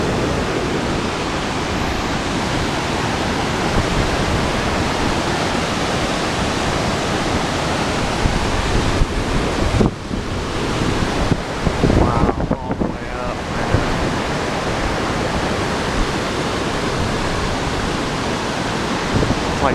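Waterfall at Chambers Creek roaring loud and steady throughout, a dense continuous rush of falling water close by, with a brief dip in the noise partway through.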